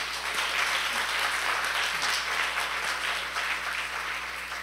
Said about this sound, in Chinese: 我们再给刚刚那些朋友一个掌声鼓励